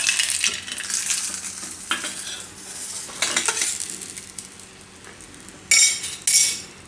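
A cheese garlic rotli roasts in ghee on a pan over low heat, giving a soft continuous sizzle broken by a few louder scraping and clinking moments of utensils against the pan.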